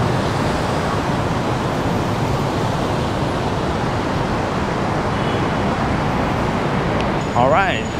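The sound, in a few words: traffic at busy Bangkok roundabout with many buses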